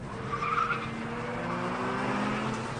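Mazda RX-8 with a 1.3-litre rotary engine revving hard while driving, a loud, steady high engine drone with rising pitch that continues throughout, close up, with no talk.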